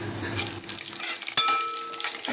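Green chilies dropped into hot tempering oil for poha sizzle and crackle steadily and close, with a sharp spattering burst partway through and no talking.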